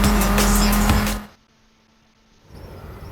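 Racing engine of a Porsche Carrera in Forza Horizon 5 roars loud and close with a steady droning tone, then cuts out abruptly into near silence before faint ambient sound returns.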